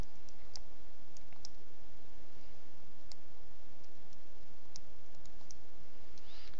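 Calculator keys being pressed to enter a square root, sparse light clicks scattered over a constant hiss, with no speech.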